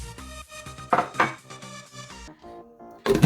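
A lid goes onto a pot of Nigerian yam porridge on the stove, giving a couple of bright metallic clanks amid kitchen clatter, close and fairly loud.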